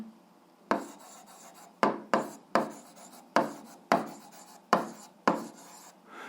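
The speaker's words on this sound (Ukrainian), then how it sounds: "Ну що ж, записуємо відповідь." A pen scratches across paper in short, brisk strokes, about eight distinct scribbles with brief pauses between them, close and fairly quiet, with no voices.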